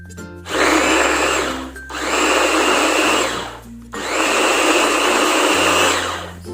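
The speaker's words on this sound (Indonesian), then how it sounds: "bumbu yang tadi udah ditumis setengah matang akan saya blender ya Bun" Kitchen blender grinding half-cooked sautéed spices with a little water for Indonesian sambal terasi, three loud whirring bursts separated by brief pauses, close and without speech.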